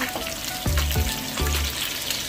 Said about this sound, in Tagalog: Ayan. Nagpiprito na tayo.